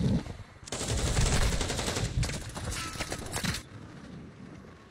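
Gunfire in the video game Call of Duty Warzone: loud, rapid automatic bursts rattle for several seconds, with a short gap midway, then cut off and leave a quieter rumbling background.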